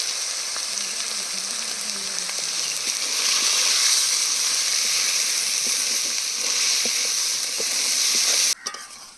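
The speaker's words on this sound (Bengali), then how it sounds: "এবার সিদ্ধ করে রাখা ডালগুলো দিয়ে দু তিন মিনিট ভেজে নেব" Boiled chana dal frying in a pan with salt and turmeric, a steady loud sizzle with scraping stir strokes, running alone and cutting off abruptly near the end.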